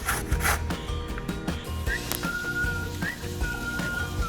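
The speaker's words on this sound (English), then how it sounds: "There's the box grater and those big hole ends. And that's how you do it." Zucchini scraped over the large holes of a box grater, a run of rough rasping strokes with a soft whistle-like tone threading through, close and steady for a few seconds.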